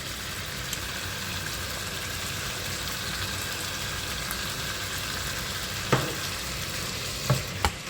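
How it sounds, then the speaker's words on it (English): Courgette and chicken fry in a pan with a steady, moderate sizzle, while a utensil stirs through with a few distinct scraping clacks near the end. "And then you stir."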